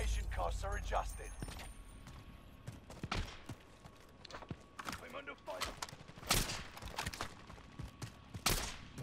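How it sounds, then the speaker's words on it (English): Gunfire in Call of Duty Warzone, sharp bursts and single shots scattered irregularly through the clip, some loud and close, others distant, with game voice lines and chatter underneath. "Receiving hostile fire."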